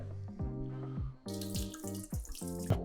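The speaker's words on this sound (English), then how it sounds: "To wash a lot of the dust off, a lot of the starch, to get the best out of rice, you need to rinse and wash at least 3 to 4 times" Rice is rinsed and washed in water, with a tap pouring and splashing into a container in close, uneven surges and bright sloshing bursts. No one speaks.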